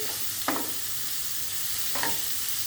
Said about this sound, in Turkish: Şöyle baharatlarını da 1-2 karıştırıyorum.